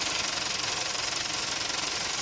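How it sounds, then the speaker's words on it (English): Steady fast rattling from a running car engine bay, heard up close and loud as a continuous buzzy clatter with no pauses and no voices. "So now I'm in the engine bay and you can hear it very loudly."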